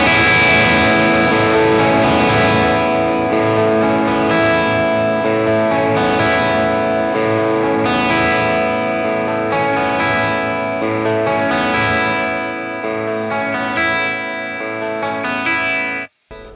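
Guitar played through a Hotone Ampero II Stage using its Tone Catch feature, a steady, full, driven tone with light modulation and sustained chords and lines for about sixteen seconds, without talking, ending with an abrupt cut.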